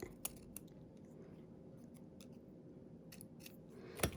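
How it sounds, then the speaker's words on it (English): Scissors trimming paper for a handmade double Z-fold card, a few soft close snips spread across a quiet room with a sharper cut near the end. "let me just trim that a little bit"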